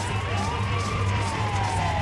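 An ambulance siren in the video game GTA V, a loud continuous wail sweeping slowly up and down over a low vehicle rumble.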